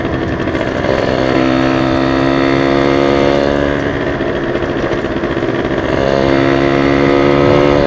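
An old Yamaha V80 motorcycle fitted with an upswept racing exhaust runs loud and close, its engine holding a raspy, buzzing rev that swells and eases slightly over several seconds, with no voices.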